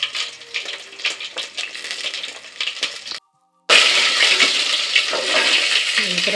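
Crushed garlic with green and dried chillies hits hot oil already popping with mustard seeds, making a loud, dense crackling sizzle close up that cuts out briefly partway before returning stronger.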